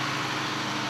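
Boat engines run inside the engine room: a six-cylinder drive engine and a generator make a steady, loud, continuous mechanical roar with no talk.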